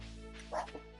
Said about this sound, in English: My little dog starts barking because, well, that's what she does.